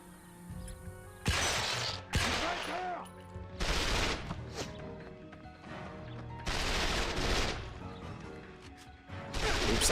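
Loud bursts of gunfire in the video game 007: Quantum of Solace, several sharp shots and short volleys separated by brief pauses, with crashing impacts and game sounds in between.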